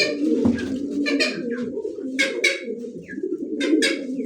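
A pair of black-laced satin pigeons coo in low, repeated throaty phrases at close range, with sharper chirps and other bird calls scattered over the cooing.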